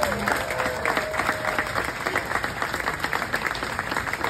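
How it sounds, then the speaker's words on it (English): A crowd at a Rotary Club event in a party barn applauds its major donors, brisk continuous clapping with a few voices mixed in, close and steady. "Give a round of applause, because they are the givers."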